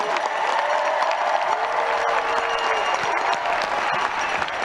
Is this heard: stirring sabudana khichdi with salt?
no